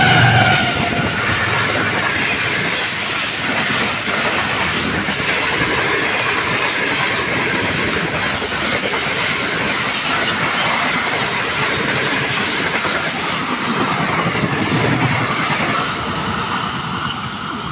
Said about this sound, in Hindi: 7 अप तेज़ गाम एक्सप्रेस U4900-33 के साथ उकाड़ा कैंट रेलवे स्टेशन को 107 किलोमीटर फी घंटा की रफ्तार से पास करिए